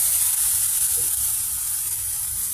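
Chopped onion and green chili frying in a pan on the stove, a loud steady sizzle hissing close up without pause.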